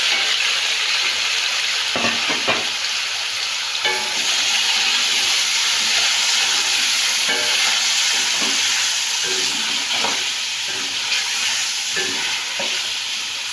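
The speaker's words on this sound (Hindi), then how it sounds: "इसकी मैं करती हूँ भुनाई।" Mutton chops sizzling and frying in a pot, with steady loud hiss and repeated scraping stir strokes throughout, no voices.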